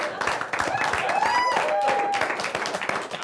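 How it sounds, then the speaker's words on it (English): Studio audience applauding a guest on a talk show, dense steady clapping at moderate level with cheering and whoops over it. "Everybody, big round of applause for my buddy Mark Landon Smith."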